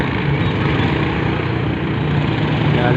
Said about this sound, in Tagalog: may mga bangka, ang ingay ng motor, ang bilis